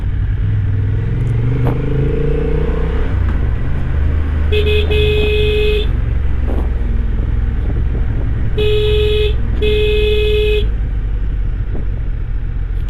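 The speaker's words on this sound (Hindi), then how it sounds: "हॉर्न मार दो।" A Honda CB750 Hornet motorcycle on a mountain road sounds its horn three times, one longer beep and then two shorter ones, loud and close over constant engine and wind rumble.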